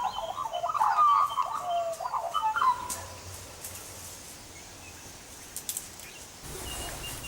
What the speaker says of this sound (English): The magpie's call is known as chortling, and it's one of Australia's most iconic sounds.